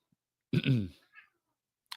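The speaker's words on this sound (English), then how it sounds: "my cat is going crazy" A single cat meow in a quiet indoor room, short and fairly close, followed by a faint trailing murmur and a small click near the end.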